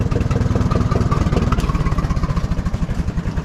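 An unstyled Oliver tractor engine firing up and settling into a loud, steady, chugging idle with rapid rhythmic pulses and some mechanical clatter, recorded close.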